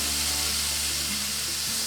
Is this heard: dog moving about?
no